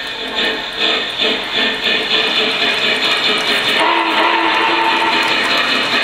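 A Lionel Legacy model train locomotive picks up speed with a steady, rhythmic chugging and clatter that grows busier. A whistle-like tone sounds briefly midway.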